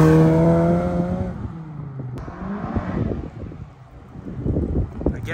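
A Porsche GT4 sports car with a new clutch pulls away on the road, engine revving under wind noise after someone speaks at the start.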